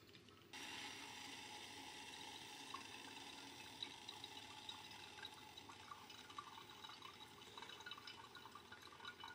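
A steady stream of hot water is poured over ground coffee in a pour-over brewer, making a continuous soft trickling and splashing that starts abruptly and holds level, quiet and close, with no voices.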